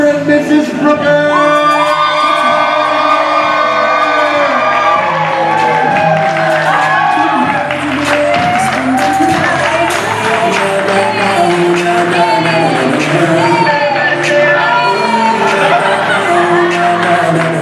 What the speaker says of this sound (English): And you guys, bigger round of applause for Mr. and Mrs. Brooker.